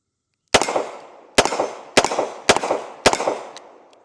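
A Smith and Wesson 640PC revolver fires standard 38 Special rounds: five sharp, loud shots in a fairly quick series, each followed by a short echoing decay outdoors.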